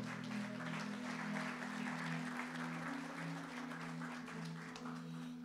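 A church congregation applauds, a dense, even wash of clapping that holds steady throughout over a sustained low organ-like drone, moderately distant.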